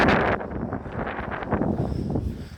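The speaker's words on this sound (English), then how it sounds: "Yeah, it's windy, isn't it?" Gusty wind buffets an outdoor microphone in a steady broadband rush, loudest at the very start and then continuing as a rough, fluctuating roar with no clear talk.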